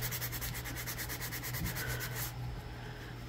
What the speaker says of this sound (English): so you just have to sand a little harder